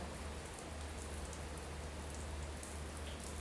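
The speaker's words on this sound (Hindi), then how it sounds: "यहाँ पे हो रही है बारिश, पूरी झमाझम अच्छी वाली बारिश हो रही है बहुत।" Heavy rain falls in a constant, dense hiss, unbroken and fairly distant, with no voices.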